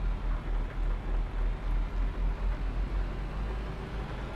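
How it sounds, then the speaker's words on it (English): Heavy rain in Euro Truck Simulator 2 gives a steady, even hiss of downpour with a low pulsing rumble underneath. It is moderately quiet and continuous, with no voices. "It's clearly raining really hard"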